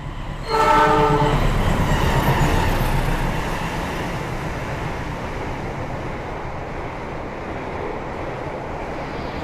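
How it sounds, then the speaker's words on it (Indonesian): A Turangga passenger train sounds its horn in a few short blasts and then rushes past at high speed near a station, a loud, steady rumbling roar that slowly fades. "itu dia kereta api Turangga"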